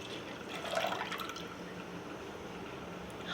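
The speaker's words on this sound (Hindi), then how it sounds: "अब इसमें मैं दूध डालूँगी।" Half a litre of milk poured into a pan on the stove for sheer khurma, a soft liquid splash and gurgle near the start that settles into a faint steady trickle.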